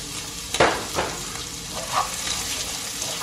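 Onions sizzle and crackle in a hot pan during a mixed seafood stir fry, a steady frying hiss with a few louder spatters and bursts as they are stirred, close and alone.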